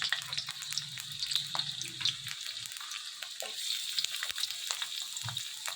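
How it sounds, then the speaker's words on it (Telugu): Onions and green chillies frying in hot oil for egg fried rice, a steady close hiss of sizzling with faint scrapes and clinks scattered through it, no voices. "ఆయిల్ బాగా వేడెక్కిన తర్వాత ఇందులోనే ఆనియన్స్ వేసుకోవాలి"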